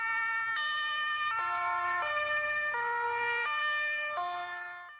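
A two-tone emergency siren from an ambulance escort convoy alternates steadily between high and low pitches, loud and close, with a faint engine rumble beneath.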